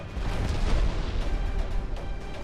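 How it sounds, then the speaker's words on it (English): A warship firing in the naval video game Ultimate Admiral Dreadnoughts, a dense rumbling boom and a rolling low-frequency blast with faint crackles, heavy and continuous without talk. "I'd like you to aggressively fire a torpedo, please"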